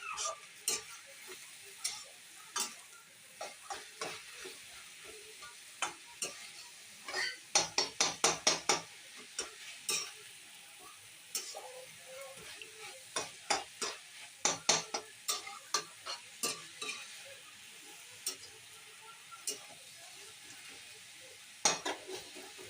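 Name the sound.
stirring moringa leaf stir-fry sizzling in a pan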